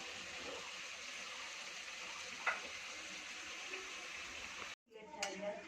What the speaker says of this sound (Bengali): খাসির মাংসটা আবার নাড়ছি, নাড়াচাড়া করছি